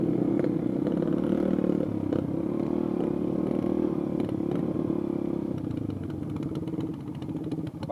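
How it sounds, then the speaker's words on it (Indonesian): An old Yamaha Vega R motorcycle with the older Vega R engine runs steadily close by on a narrow rural path, its low puttering drone constant with a slight easing near the end and light rattling on top. "depan saya memakai motor Vega, bermesin Vega R ya"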